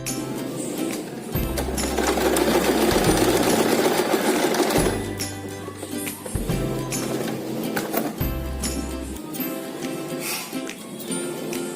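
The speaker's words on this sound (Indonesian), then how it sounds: "Jahit di bagian tanda kiri, jahit lagi di tanda sebelah kanan." A sewing machine stitches elastic onto a lace prayer garment, running in steady loud bursts that stop and restart several times, with no talking.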